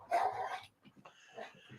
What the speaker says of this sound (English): Look at that beautiful dog.